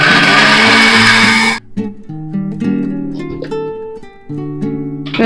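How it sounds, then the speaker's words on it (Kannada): A kitchen mixer grinder whirs loudly as it grinds coriander seeds into powder, then cuts off after a second and a half, leaving quieter tonal sounds. "ಇನ್ನೊಂದ್ಸರಿ ಮಿಕ್ಸಿಗೆ ಹಾಕೊಳ್ಳೋಣ್ರಿ"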